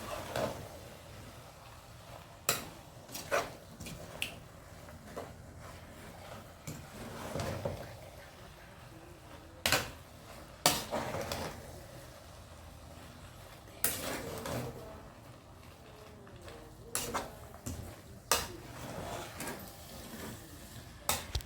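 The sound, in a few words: stirring vegetables in a small pot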